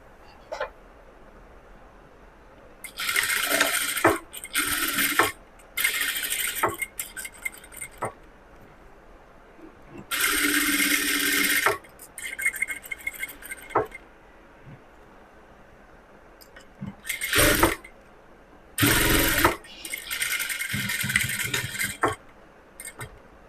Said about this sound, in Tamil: இப்போது இந்த ஆம்கோல் சைடு, இந்த கழுத்து, இந்த ஓப்பன் எல்லாம் அப்படியே தைச்சிடலாம்